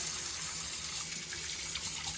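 A tap runs water into a sink for hand washing, a steady soft splashing stream heard close and alone.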